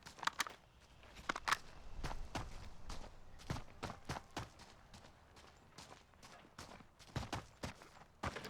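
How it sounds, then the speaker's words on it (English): Footsteps in a Warzone match: a fast run of sharp, clicky steps and scuffs, some close and loud, others softer, continuing in an irregular stream over a low, quiet backdrop. "I heard footsteps right there"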